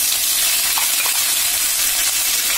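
Ginger and garlic paste frying in a pan over a high flame, a loud, steady hiss and sizzle that fills the whole clip with no talk over it.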